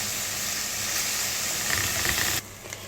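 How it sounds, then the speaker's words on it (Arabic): Chopped onion sautés in a hot pan for a taro and greens dish, giving a close, steady hiss of sizzling that cuts off near the end and leaves a faint, quieter tail. "نشوح كده، اشوحها كده كويس يا حبايبي لحد ما تدبل معايا"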